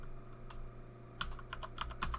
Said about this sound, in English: I'm typing out sold, so you better hurry up